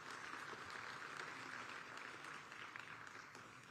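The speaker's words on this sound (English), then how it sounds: "Let's give her a round of applause." Faint, distant applause from an audience at a diplomatic ceremony in Addis Ababa, a dense steady patter of many hands clapping that tapers slightly toward the end.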